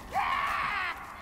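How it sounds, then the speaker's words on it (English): An enemy in the survival game The Forest lets out a long, rising, wailing scream lasting nearly a second, loud and close over faint game ambience. "Don't scream at me."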